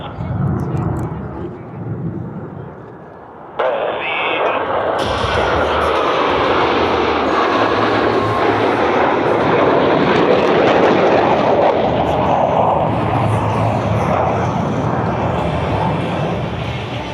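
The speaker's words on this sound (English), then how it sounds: "roll their aircraft 360 degrees as they perform the Diamond aileron roll" Blue Angels jets roar overhead during a Diamond aileron roll at an airshow. The engine noise is broad and loud, swelling in abruptly after a quieter start and holding as a sustained roar, with voices faintly present.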